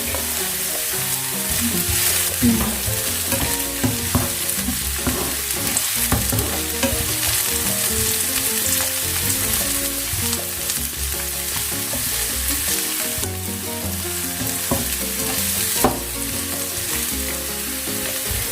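Chopped onion and garlic sizzle and fry loudly in a hot pan, with steady crackling and repeated scrapes and stirs of a utensil against the pan throughout.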